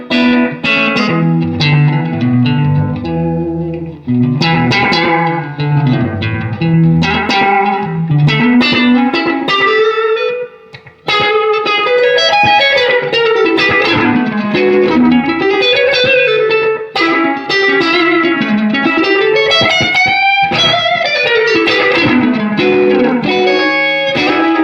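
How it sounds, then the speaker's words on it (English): Guitar played through a vintage DOD Echo FX FX96 pedal set for slapback tape echo, giving loud, continuous picked phrases with short repeats trailing each note and a wobbling, tape-like quality. The playing pauses only briefly midway. "keeping in that slapback territory and playing with that tape quality can really get you pretty close in"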